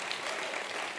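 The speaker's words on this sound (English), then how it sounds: "So clap for yourself for how far you've come with your business." An audience at a business sales masterclass applauding themselves, a brief wash of dense, continuous clapping from a large crowd.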